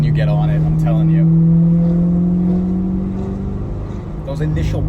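C8 Corvette fitted with titanium exhaust drones steadily under acceleration, engine tone shifting as it changes gear, with a few sharp transient bursts and people talking over it inside the car.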